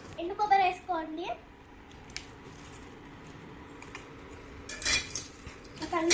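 Dried coconut masala stirred in a pan by a child cook, with soft scraping and clinking of a utensil against the pan in short bursts, a voice and other speech heard over it.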